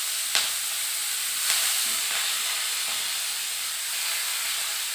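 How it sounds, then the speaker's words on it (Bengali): Chopped onion dropped into hot oil already crackling with cumin, a close, even hiss of sizzling with a couple of sharp spits. "এবার আমি এর মধ্যে পেঁয়াজ কুচি দিয়ে দেব।"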